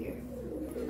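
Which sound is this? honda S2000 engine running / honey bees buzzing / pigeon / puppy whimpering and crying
pigeon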